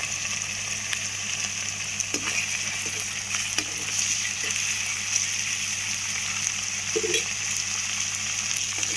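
Ginger garlic paste with turmeric and salt frying in oil for a vegetable curry, giving a steady, even sizzle across the whole stretch with a few soft spatters and a faint stir near the end.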